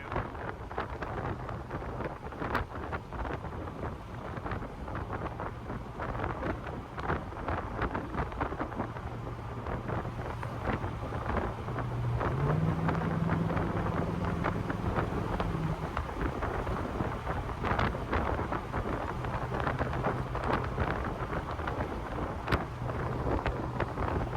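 Wind rushes steadily past an open Camaro SS convertible on a summer drive, a broad, continuous buffeting roar with a low engine hum beneath it and no talking.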